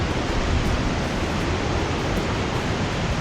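A mountain stream on the Gaumukh Tapovan trek near Gangotri in Uttarakhand rushes over stones, a loud, dense, steady roar of turbulent water close by, with no voices.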